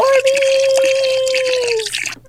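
Soapy bubbles full of Orbeez water beads poured back into a container, a brief wet trickling and dripping pour lasting about two seconds before fading out.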